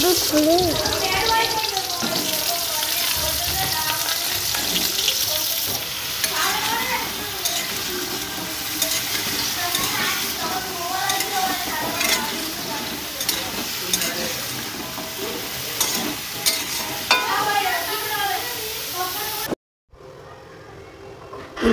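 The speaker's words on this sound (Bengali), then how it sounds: "আর ওইদিকে আমার পটল ভাজা হচ্ছে" Sliced pointed gourd frying in oil in a pan in a village kitchen, a loud continuous sizzle with stirring scrapes throughout, briefly cutting out near the end.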